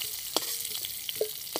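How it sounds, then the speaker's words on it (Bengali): Cauliflower florets frying in oil in a pan, browned until reddish, give soft, scattered crackles and a few light stirring clicks against a quiet background, with no voices. "এরম লাল লাল করে ভেজে নেব।"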